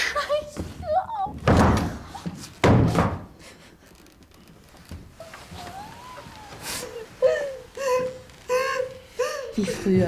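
Several heavy, dull thuds of a fist pounding on a closed bathroom door come in a short burst, mixed with angry shouting and whimpering or crying voices.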